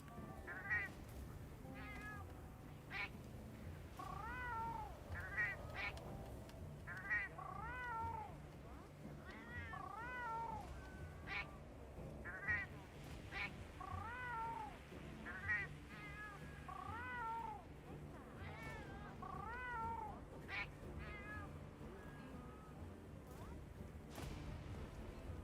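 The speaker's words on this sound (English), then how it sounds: "And my cat meows every time I do that." A pet cat meows repeatedly in short, rising calls scattered across the stretch, close and fairly clear over steady low background sound from a Monster Hunter Wilds game session.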